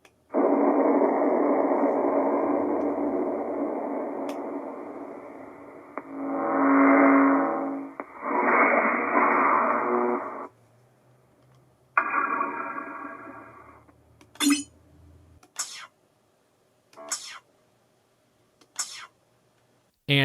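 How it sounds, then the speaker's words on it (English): Xbox dashboard sound effects in a Windows theme, a long airy whooshing chime swell followed by a string of short sharp clicks and blips, some quiet and spaced apart. "And it also incorporates some sounds that are from the Xbox,"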